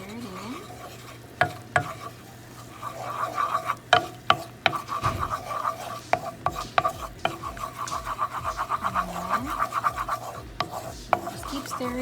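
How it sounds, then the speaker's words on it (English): Flour is stirred into butter in a hot pan for a bechamel sauce, with a steady scraping and sizzling and sharp clicks of the spoon against the pan, close and continuous. "Just keep stirring until it breaks down."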